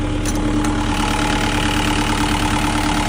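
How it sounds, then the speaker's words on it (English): Steady diesel engine of a 2024 CAT 306CR mini excavator idling close up, a constant low rumble with an even mechanical chug and no voices. "And here's the engine running."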